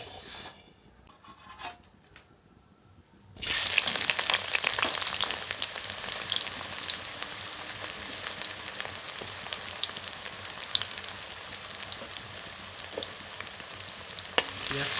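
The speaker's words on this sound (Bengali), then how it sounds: "তেলটা গরম হয়ে গেছে এবার তেলের মধ্যে পেঁয়াজটা আমি দিয়ে দেবো" Onion tipped into hot oil for a Bihari-style mutton dish: a few quiet seconds, then a sudden loud, bright sizzle that keeps crackling steadily, with occasional sharper pops.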